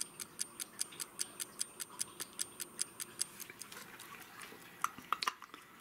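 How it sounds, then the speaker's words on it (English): A vintage Elka keywound travel alarm clock from around the 1960s or 70s ticks steadily at close range, a quiet, even run of sharp clicks, followed by a few louder handling knocks near the end. "I don't know if you can hear it ticking."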